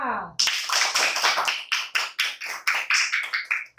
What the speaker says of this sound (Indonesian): Yang lebih keras tepuk tangannya.